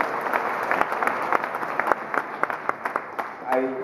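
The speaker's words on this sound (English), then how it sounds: "Why don't you clap for Robert?" An audience at a speaking event breaks into scattered applause, individual claps sharp and uneven against a murmuring crowd, building and thinning over a few seconds.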